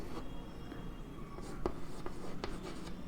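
Chalk or marker scratches and taps on a board in short irregular strokes, quiet and close, with no speech.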